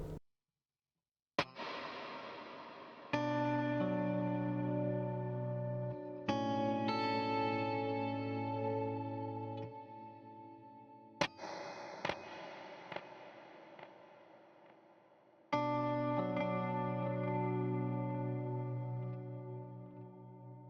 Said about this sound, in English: This is the bright mod plate.